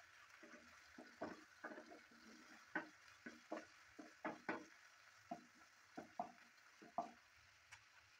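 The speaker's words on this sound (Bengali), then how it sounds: "চিংড়িটা দেওয়ার পর হালকা একটু ভেজে নিচ্ছি নেড়ে চেড়ে নিয়ে" Dried shrimp frying in a pan crackle faintly while being stirred, with a series of soft, evenly spaced scraping strokes over a low sizzle.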